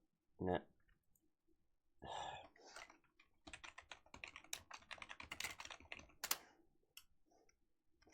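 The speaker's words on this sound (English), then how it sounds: "Oh, I'm so bad at typing." Rapid clicking keystrokes on a computer keyboard during a strategy game session, in irregular bursts after a brief sigh, close and fairly quiet.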